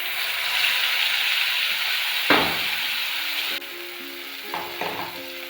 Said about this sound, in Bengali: মিক্সারে এই যে মশলাগুলো পেস্ট করে নিয়েছি, এগুলো আমি দিয়ে দেবো তেলে।